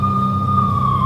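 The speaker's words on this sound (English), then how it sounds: "I could hear the sirens. Their wail was a crescendo." Police sirens wailing in the video game Max Payne, a steady, loud, sustained siren tone held without break.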